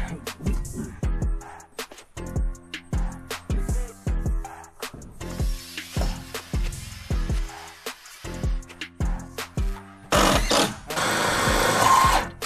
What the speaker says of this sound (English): These are self-tapper screws. Goes right into the aluminum with ease.